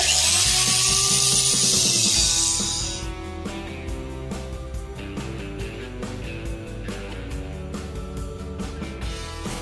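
An angle grinder with a 4.5 inch wheel resurfaces rusty metal on a DCS grill, a loud close whine with harsh scraping that sharpens after a few seconds into steady grinding with faint rhythmic pulses, no talking.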